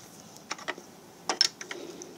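A ratchet works loose the three bolts holding the accessory belt tensioner on a car engine, giving a few faint, scattered clicks and short metallic ticks in quiet bursts, close by with no talk.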